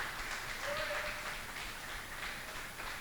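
A church congregation applauds steadily for a few seconds. The clapping is faint and far off, blended into the room's ambience, with a hint of voices under it.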